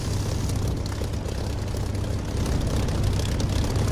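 Constant engine roar of a jet aircraft in flight in the DCS flight simulator, a steady, fairly loud drone with no voices.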